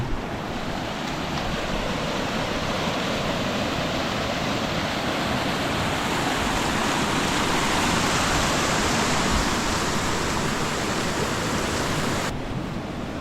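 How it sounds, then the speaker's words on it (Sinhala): A water stream rushes near a hidden waterfall in the Maskeliya hills of Sri Lanka, a steady, loud, close roar of flowing water with no talking. "වතුර බාරක් යනවා මෙතන."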